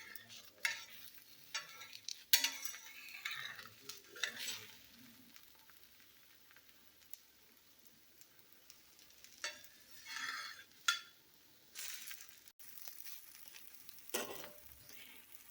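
Wheat and onion adai dosa frying in oil on a hot pan, a soft steady sizzle with intermittent scraping and stirring clatter, fairly quiet and close, with no talking.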